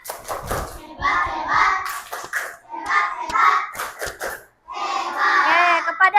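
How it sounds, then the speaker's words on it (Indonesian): Children perform the rhythmic 'tepuk hebat' clapping chant in an elementary classroom for a student group, sharp synchronized claps alternating with bursts of chanted voices in three close, loud phrases. "kita berikan tepuk hebat untuk kelompok 2."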